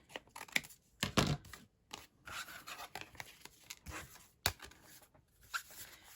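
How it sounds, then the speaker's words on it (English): Scissors trimming paper for a junk journal tea tag, close and quiet, with several crisp snips and cutting rasps in uneven bursts separated by short pauses. "I'm just going to take my scissors, trim it down so it's ready."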